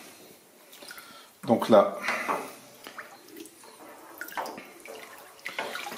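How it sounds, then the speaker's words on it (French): Water splashes and drips as a pitcher is rinsed while making cow's-milk tomme cheese, a louder gush midway, with a person talking over it. "je rince bien mon pichet"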